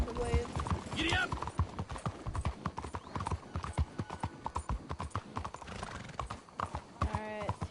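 Horse hooves clip-clop in a rapid, rhythmic gallop in the Red Dead video game, with a whinny near the start and game speech mixed over the hoofbeats.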